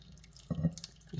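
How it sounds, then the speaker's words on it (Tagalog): Sauce poured over a Thai vegetable salad, a short wet splash and trickle amid faint clinks, close and brief, with no talk. "ngayon, ibubuhos na natin yung ating sauce"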